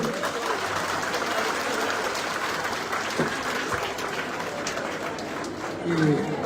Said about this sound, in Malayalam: നല്ലൊരു ക്ലാപ്പ് കൊടുക്കും എല്ലാവരും.